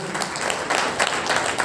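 Loud, dense applause from an audience at the opening ceremony of a multipurpose hall, continuous clapping throughout.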